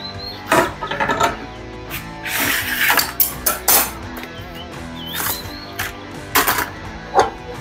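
Cover of a table saw being opened to change the blade: a string of sharp metallic clanks, clinks and rattles of metal parts being handled up close, irregular and loud, with no talk.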